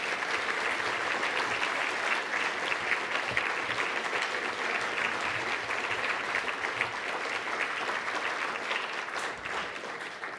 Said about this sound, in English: let's give one more round of applause to the Fellows Class of 2012